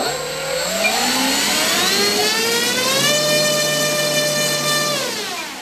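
A Dynam Hellcat RC plane's electric motor on a 4-cell battery runs up in a loud thrust check, a steady high whine whose harmonics climb, hold at full throttle for a few seconds, then dip as it spools down.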